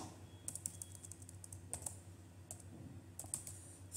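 Clicks of a computer keyboard come in short bursts of several keystrokes with gaps between, close and fairly quiet against a low steady hum in a quiet room.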